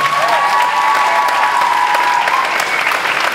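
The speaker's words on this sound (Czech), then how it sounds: "ještě jednou zatleskáme" An audience applauds at the 2016 finals of a Czech talent competition, a dense sustained round of clapping with faint tonal background, steady and loud from start to finish.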